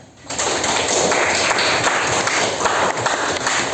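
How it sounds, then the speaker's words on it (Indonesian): Students in a classroom clap together during a lesson. Loud, dense, continuous clapping starts abruptly and fills the room. "Bagus, tepuk tangan."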